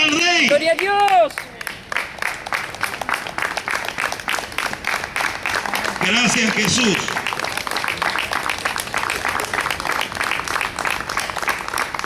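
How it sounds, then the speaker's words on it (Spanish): A church congregation applauding loudly in steady clapping that runs throughout, with shouted voices and a brief spoken phrase over the top. "Denle un aplauso fuerte al Rey."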